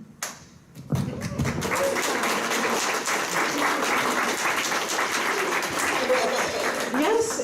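Dense audience applause at a sex workers' speak-out event, starting with a few claps and swelling within a second into a loud, sustained ovation that holds steady to the end, with faint voices mixed in.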